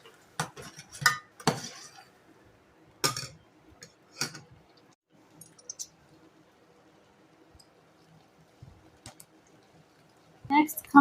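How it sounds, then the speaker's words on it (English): A spoon scrapes and clinks against a pot of chicken, rice and beans, a few sharp metallic taps and stirring clatters spaced out amid quiet pauses. "Then we'll give this a good stir and let it heat for a little bit."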